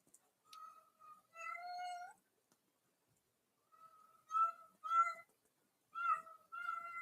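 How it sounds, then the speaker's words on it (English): A cat meows repeatedly in clear, tonal calls, several separate meows with short pauses between them, close and fairly loud against an otherwise silent background. "I'm going to kill that cat."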